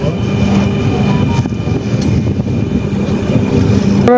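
A Dhaka metro rail train pulls into a station, a steady loud low rumble and hum of the carriages filling the whole stretch with a faint high whine above it.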